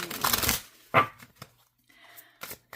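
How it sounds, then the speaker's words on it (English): Oracle card deck being shuffled by hand during a tarot-style reading, with a few quick papery riffles and taps in short bursts, close and fairly quiet, no talking. "So I'm just going to shuffle."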